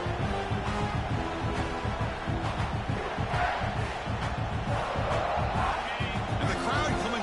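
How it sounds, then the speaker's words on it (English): Stadium crowd at a college football game roaring and cheering as the defense lines up in the red zone, a steady loud wash of noise under commentary. "And the crowd coming to life here"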